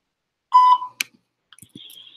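Voicemail beep on a phone line, a single short clear electronic tone up close, followed by faint clicks and a brief thin tone.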